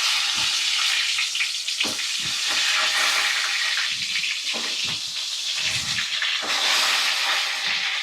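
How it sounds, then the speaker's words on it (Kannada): Chopped onion and tomato fry in hot oil in a pan, giving a steady close sizzle and hiss throughout with occasional soft stirring knocks. "ಈಗ ಇದನ್ನೆಲ್ಲ ಎಣ್ಣೆ ಒಳಗ ಫ್ರೈ ಮಾಡ್ಕೊಳ್ಳೋಣ"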